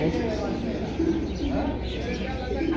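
Pigeons cooing in a loft, soft repeated coos scattered through the clip over a steady, busy background hum.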